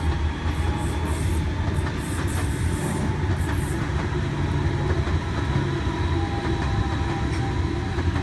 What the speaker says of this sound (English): And arriving under platform 4 we have another Waratah.